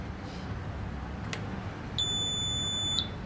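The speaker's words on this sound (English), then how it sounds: "Now continuously buzzer will turn on because it is invalid voter" Buzzer on an Arduino electronic voting machine sounding for an invalid voter: one steady electronic tone lasting about a second, clear over a quiet hiss, after a brief tick.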